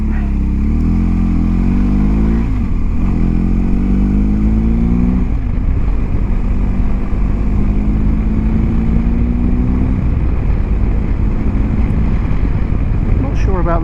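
A BMW R1250GS motorcycle rides along a road, its engine droning loud and close with rising revs through gear changes under heavy wind buffeting, while a rider's voice is faintly present.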